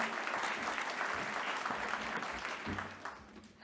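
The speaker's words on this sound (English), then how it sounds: "A warm applause," A seated audience at a workshop pitch session gives a warm round of applause, dense steady clapping heard at moderate distance that thins toward the end.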